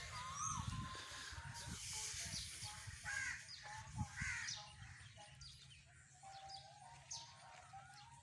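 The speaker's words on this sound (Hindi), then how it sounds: "ये बोल रही है जी कोयल।" An Asian koel calls from a nearby tree with rising whistled notes that repeat at intervals, mixed with harsher crow-like caws from other birds in the surrounding outdoor air.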